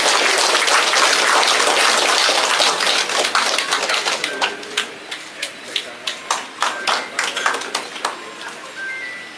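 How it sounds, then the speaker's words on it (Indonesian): Applause from a ceremony audience fills the hall loudly, then thins into scattered individual claps that fade out over several seconds. "Kita beri aplaus bersama."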